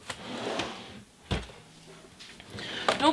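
A drawer packed full of art supplies slides open with a scrape and a clunk, followed by shuffling and rattling of the contents inside.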